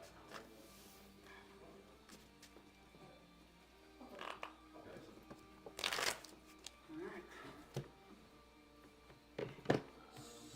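Deck of cards being shuffled at a Star Wars Unlimited draft table, with several quick riffling bursts between quieter rustles and faint room sounds, close by.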